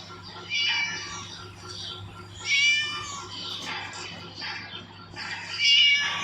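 A cat meows three times in the video game Scary Teacher 3D, each a loud, wavering call separated by a pause of roughly two seconds, over a low background hum.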